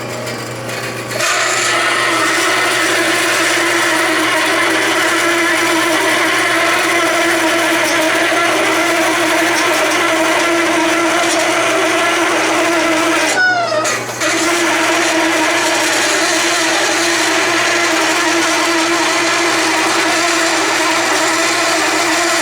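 A converted Delta saw driven by a gear motor cuts through 1/4 inch steel, giving a steady, loud grinding rasp that runs continuously with a brief squealing break midway.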